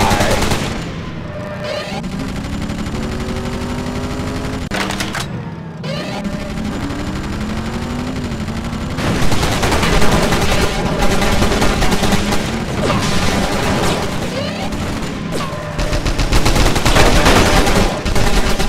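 Rapid video game gunfire from RoadKill rattles in dense, continuous bursts, loud and close, layered over engine drone and rising in intensity toward the end.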